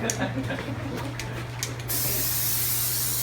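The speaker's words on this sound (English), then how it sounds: "you hear that air going out, that air, then the can starts to get cold in your hand" Spray paint hisses in short bursts from a can with a fat cap, then settles into a loud, steady hiss of gas rushing from the can.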